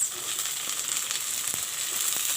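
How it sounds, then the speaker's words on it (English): Capsicum and carrots frying in a hot pan, a bright continuous sizzle that stays loud and close with faint stirring taps and no talking. "Put the capsicum first, then put in the carrots"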